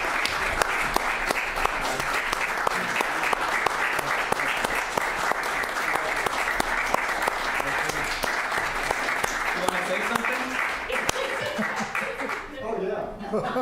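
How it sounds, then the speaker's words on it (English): Sustained applause from a meeting audience honoring a departing planning commissioner, dense steady clapping filling the room for over ten seconds with some chuckles, tapering near the end. "maybe everyone can give him a round of applause when I hand him this"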